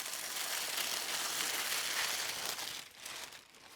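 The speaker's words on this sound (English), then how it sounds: "just start from a corner and peel off your paper" Paper backing peeled from the corner of a tufted rug, a steady dry crinkling tear lasting a few seconds before easing off, close and fairly quiet with no talk.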